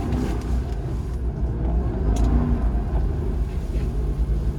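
A British sports car pulls out slowly through a snowstorm, its engine a steady low rumble close by with faint road and snow noise, no talking.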